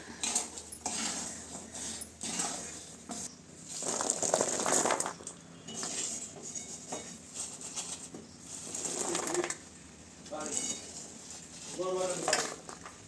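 Peanuts roasting in hot salt in a pan, stirred with a utensil, giving intermittent scraping and rattling clatter at a modest level with quiet pauses between strokes.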